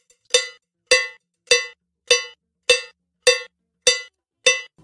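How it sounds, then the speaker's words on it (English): Campana cowbell in a salsa rhythm, struck eight times at an even, steady pace with bright metallic clanks, each loud and alone with no talk. "the campana makes a distinctive noise on beats 1 and 5"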